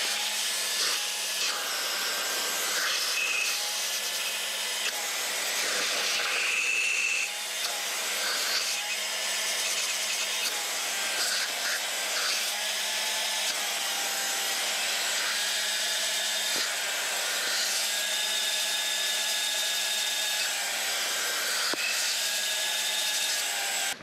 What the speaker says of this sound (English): Just come back through with the vacuum cleaner.